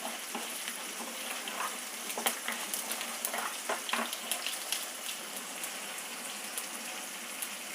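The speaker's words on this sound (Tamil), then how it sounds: "கடுகு உளுந்து, கடுகு பொரியுது," Mustard seeds and urad dal crackle in hot oil with a continuous sizzle broken by small sharp pops and spatters, close by and moderately loud, with no voices.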